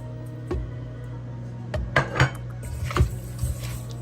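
Seasonings mixed in a bowl with a utensil, several clinks and scrapes against the dish at irregular intervals, close and clear with no talk.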